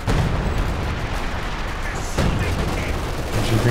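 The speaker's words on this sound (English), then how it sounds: "Major artillery down," Artillery fire in a Company of Heroes 2 match, heard as a continuous rumble of shelling and gunfire mixed with explosions, a sharper impact near the middle and a voice talking over the battle.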